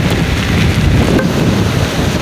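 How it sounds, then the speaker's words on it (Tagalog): Strong typhoon wind roars in a continuous, loud, buffeting rush over the microphone during a motorcycle ride, with no break for the whole stretch. "Lakas ng kampas ng hangin."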